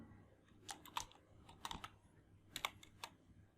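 Close, light clicks of typing on a computer keyboard arrive in several short bursts of a few keystrokes each against a quiet room.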